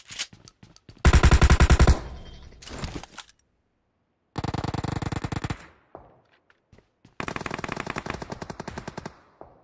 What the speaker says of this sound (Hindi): शॉट गन से मार रहा है एक को मार दिए